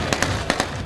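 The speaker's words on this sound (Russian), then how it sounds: "Объявляют регистрацию и внезапно начинается стрельба." Gunfire at a staged hostage-taking show: four sharp, loud cracks in quick, uneven succession over a steady crowd-like background roar.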